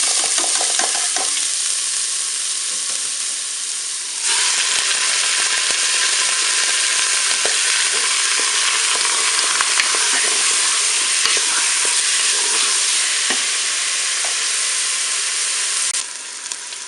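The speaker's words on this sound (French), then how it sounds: "je vais pouvoir faire revenir ma palette et mes oignons" Pork palette and onions frying in a Cookeo multicooker, a loud, dense, continuous sizzle that swells after a few seconds, with occasional stirring scrapes and no talking.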